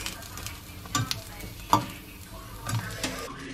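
Food fries quietly in a pan after being burnt on heat set too high, a soft low sizzle punctuated by a few sharp scrapes and taps of a utensil, heard alone.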